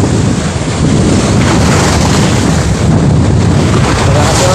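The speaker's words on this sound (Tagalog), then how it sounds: "Malakas ang alon." Strong wind and rough waves buffet a small fishing boat on Laguna de Bay at Barangay Tadlac, Los Baños, a loud steady roar of gusts and splashing water filling the whole stretch with no talk.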